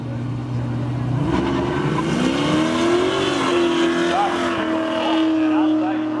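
A 1986 Chevy Camaro and an 87 Pontiac race in a spectator drag event at Seekonk Speedway, engines droning loudly and rising in pitch under steady acceleration, with a voice talking over the engine roar.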